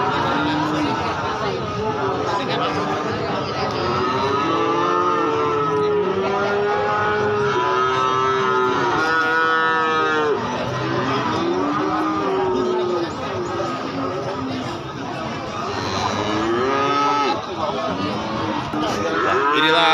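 Breeding cattle low and moo repeatedly at the Gorang Gareng cattle market in Magetan, East Java, with several long overlapping calls close by over a constant crowd and market din.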